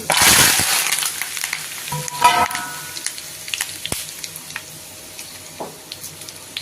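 Black pepper, cumin and curry leaves hitting hot fat for a Chennai-style pongal tempering: a loud burst of sizzle at first, then scattered crackles and pops fading down, with no talk.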